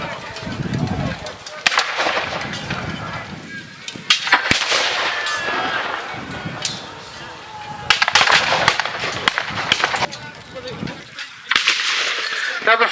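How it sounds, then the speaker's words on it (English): Several loud blasts from two Napoleonic-era cannons boom at irregular intervals, each sharp report trailing off into rumbling echo and noisy background. "And we've only got 2 cannons firing here."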